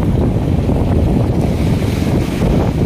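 Constant roar of wind and surging surf along a Manila Bay seawall in bad weather, waves pounding steadily with heavy wind buffeting the microphone throughout.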